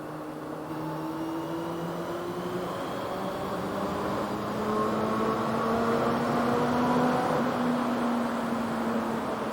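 A 2022 Honda CB400 Super Four's inline-four engine sings at around 5,000 RPM inside a tunnel, with a smooth, steady drone whose pitch climbs gradually over a reverberant roar and no talking.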